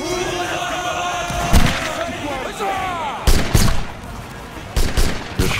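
Musket volleys in a video game skirmish, several loud, sharp cracks and booming bursts at irregular intervals over continuous background din and distant game noise.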